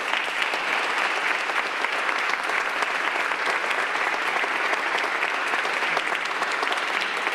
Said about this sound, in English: let's give him and his family a round of applause.